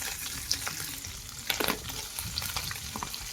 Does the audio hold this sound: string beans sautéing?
yes